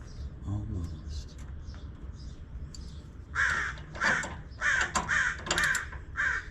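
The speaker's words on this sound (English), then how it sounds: "there's my buddy, the other old crow" An old crow caws in repeated loud bursts from about three seconds onward, with fainter calls and background noise earlier, heard outdoors during work on a car's front suspension.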